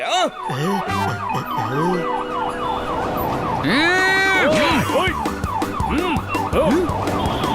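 Cartoon ambulance siren wailing in a loud rising-and-falling pattern through a traffic jam, mixed with other honking siren tones and animated voices talking over it.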